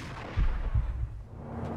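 A sniper rifle fires two heavy, booming shots in the video game Max Payne, each a sharp low thump about a third of a second apart, over a quiet ambient background.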